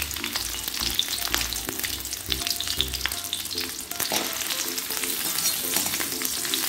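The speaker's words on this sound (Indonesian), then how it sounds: "di sini sudah saya kasih panas minyak ya untuk menggoreng ikan bilis atau ikan teri" Anchovies (ikan bilis) frying in hot oil give a steady, dense sizzle throughout, with occasional light clicks from stirring and no voices.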